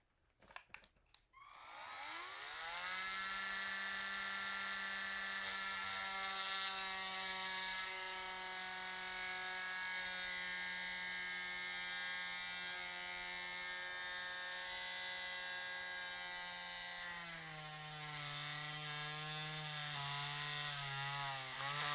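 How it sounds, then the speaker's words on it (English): A steady, high-pitched whining drill grinds continuously into a plastic Mezco Nosferatu figure's elbow for about twenty seconds, loud and close, its pitch dipping slightly near the end. "I'm gonna see if I can't drill off to the side."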